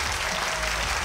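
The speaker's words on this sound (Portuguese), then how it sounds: "Tem que aplaudir mesmo." Studio audience applause on a Brazilian TV program, a dense, steady wash of clapping that fills the whole short moment with no voices over it.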